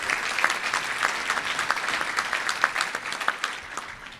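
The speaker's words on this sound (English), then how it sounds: "I think another round of applause is well warranted" A Rotary Club of Tucson meeting audience applauds, a dense, steady patter of many hands clapping at moderate volume from start to finish with no voices over it.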